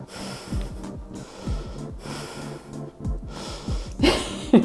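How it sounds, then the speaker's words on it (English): Heavy, effortful breathing during a strenuous reformer Pilates workout, with sharp snorting exhales and gasping inhales repeating in a steady rhythm, close and fairly loud, growing more strained toward the end. "I'm sure you can hear my breathing getting harder and harder."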